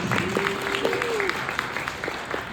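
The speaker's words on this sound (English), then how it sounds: "please give another round of applause to Susie Dumont" An audience at a book festival in Little Rock, Arkansas, claps for an author: sustained, fairly distant applause. A brief whistle or cheer rises over the steady clapping.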